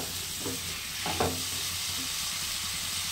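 Potatoes and pointed gourd fry in hot oil, a steady close sizzle with a couple of brief stirring scrapes in the middle.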